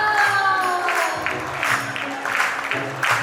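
At a Shyam Sankirtan devotional gathering at Jifco Resort, Sahnewal, the audience claps in rhythmic bursts, moderately loud and mixed with sustained musical tones.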